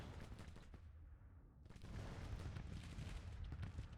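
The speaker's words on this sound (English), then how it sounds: "I hear a lot of musket fire." Musket fire in the Grand Tactician: The Civil War video game, heard as a dense, distant crackle of overlapping volleys that swells and rolls on continuously, with no voices.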